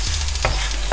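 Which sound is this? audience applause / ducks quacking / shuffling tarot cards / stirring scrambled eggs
stirring scrambled eggs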